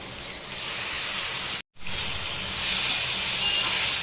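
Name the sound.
grated raw mango frying in a pan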